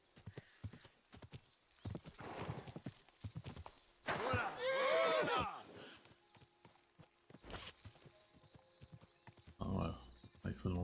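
Horse hooves clip-clop through a forest in the medieval game Kingdom Come Deliverance II, steady rhythmic steps with a loud neigh midway, under a man's intermittent speech.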